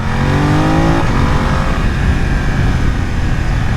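A 2020 BMW F900R motorcycle engine in road mode drops from fourth to second gear, its loud close exhaust note sweeping down in pitch, then holding a rough rumbling idle-like drone.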